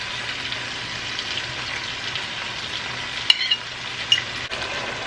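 Salt mackerel with black pepper and vegetables being turned gently with a spatula in a cooking pot, a steady soft sizzle with two brief clinks of the spatula against the pot near the end.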